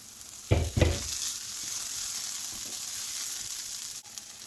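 Cooked prawns drop into a frying masala, giving two quick loud thumps and bursts of sizzle, then a steady, softer frying hiss with occasional stirring scrapes.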